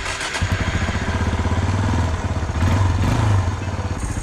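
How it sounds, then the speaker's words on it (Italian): A motorcycle engine turns over and catches after a fuel-system repair, settling into a loud, close, rhythmic idle with a brief stumble and a blip of revs partway through. "Bene, ora che ho rimontato tutto provo ad accendere."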